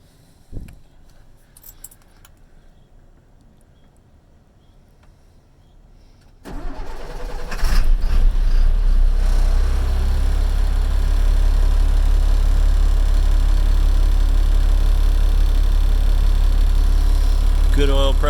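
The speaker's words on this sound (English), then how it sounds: "Here's the start." A 2006 GMC C6500 Topkick truck engine cranks and catches after a quiet lead-in, then settles into a loud, steady, rumbling idle that continues to the end.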